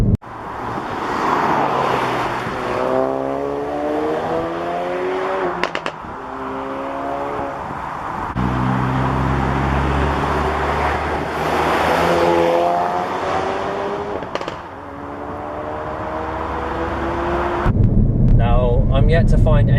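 A Ford Focus RS accelerates hard through corners. The engine note climbs repeatedly in rising sweeps and drops back between gear changes, loud and close inside the cabin, with wind buffeting throughout.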